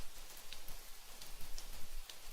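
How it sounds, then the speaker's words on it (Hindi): Steady rain falling in a cartoon, a soft continuous hiss with scattered faint drop ticks throughout, no voices. "अरे यार इतना बारिश हो रहा है"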